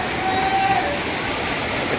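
The waterfall at Harishankar temple near Gandhamardan hill in Balangir district rushes in a steady broadband roar, with a voice speaking over it.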